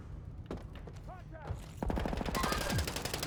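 Gunfire in the Call of Duty Modern Warfare 3 video game, with scattered single shots giving way to dense rapid automatic bursts, loud and continuous over an ongoing game soundtrack.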